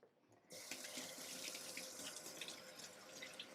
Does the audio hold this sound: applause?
no